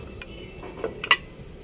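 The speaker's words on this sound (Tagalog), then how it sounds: "Ayan guys, kumukulo na. Tatakpan natin para mabilis." A lid set onto a pot of boiling water, a few light metallic taps and clinks ending in one sharper clank, close and fairly quiet over a low background.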